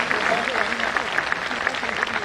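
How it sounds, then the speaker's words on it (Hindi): Audience applause at a poetry event, a steady wash of clapping from a crowd that fills the whole short stretch at even loudness with no pauses. "एक बार जोरदार तालियां बजाइएगा चिराग के लिए।"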